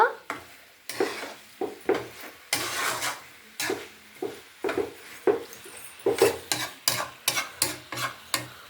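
Chicken curry pieces in a pan are stirred with a utensil, making a long run of sharp, rhythmic scrapes and clacks against the metal over a low sizzle, close and fairly loud, with no talking.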